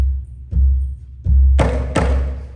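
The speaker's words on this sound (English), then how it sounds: "basic drum beats that we use here at the workshop. The first one is called a coo-coo." A Hawaiian hula drum plays the coo-coo beat in a workshop: a few deep, resonant thumps spaced unevenly, the last two struck close together with brighter slaps, loud and near with no talking.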